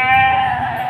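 A goat bleats at a busy livestock market, one loud, close, sustained nasal cry lasting under a second.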